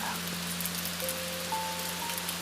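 Steady rain falls on a Tokyo night, a constant, even hiss of drops on surfaces with no breaks, accompanied by a low persistent hum and faint thin tones drifting in.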